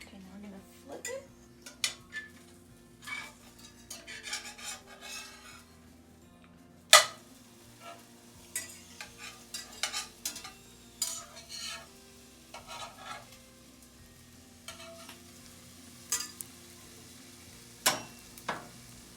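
Blini pancakes frying in a pan, with scattered clinks and scrapes of a utensil against cookware over a soft sizzle, and a sharp clatter partway through; fairly close, with no voices.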